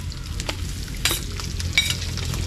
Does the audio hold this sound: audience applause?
no